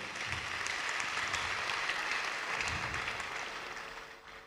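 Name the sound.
audience applause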